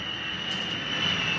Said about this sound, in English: And you can hear the aeroplane go overhead.